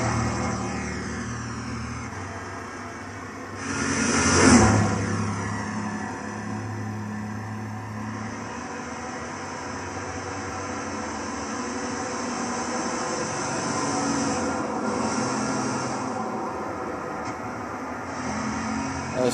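A 1970 Plymouth AAR Cuda 340 Six Barrel, driven in Gran Turismo 6 on the Nordschleife, holds a loud, sustained engine drone with a brief rising surge as the car shifts into fifth gear, then cruises on steadily with no voice over it.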